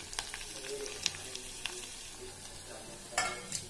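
Misal masala and red chilli powder frying in hot oil, a steady sizzle with small crackles and occasional stirring taps.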